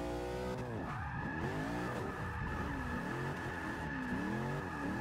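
Drift race cars skid and rev hard at Lime Rock in a 2017 open-bracket drift event, engines wailing in rising and falling sweeps over a continuous roar of tire squeal, loud and close, with no talking.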